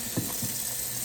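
A kitchen tap runs steadily into a sink while raw chicken is washed, a soft continuous hiss of water with a couple of faint knocks, brief and fairly quiet.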